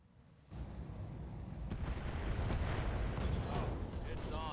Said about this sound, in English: We got an ammo explosion taking him down.